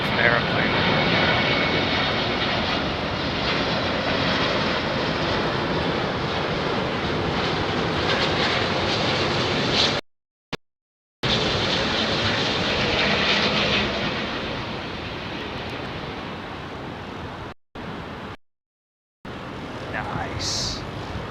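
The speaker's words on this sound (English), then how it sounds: "Virgin Atlantic A350." A Virgin Atlantic Airbus A350 arrives on runway 27R at Heathrow Airport, its engines a loud, sustained broadband roar that holds steady for about ten seconds and then continues after brief gaps.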